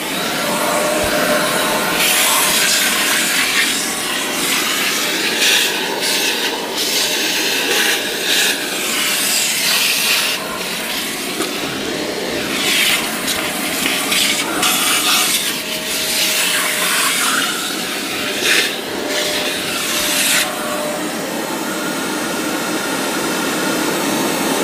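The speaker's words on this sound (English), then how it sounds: "I'm going to turn the vacuum on, run it for like a few seconds to dry it up" A vacuum cleaner runs continuously to dry out a damp fish tank, a loud, close, steady whine and rush with rubbing and scraping textures shifting over it, no voices.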